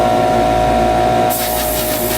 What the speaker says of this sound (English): I think the only way around this is for me to spray paint all these parts again